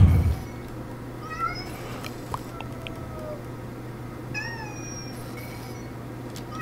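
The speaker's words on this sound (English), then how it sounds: "It's meowing." A kitten in the horror video game Amanda the Adventurer meows repeatedly, thin and plaintive, in short calls spread over a quiet low background hum.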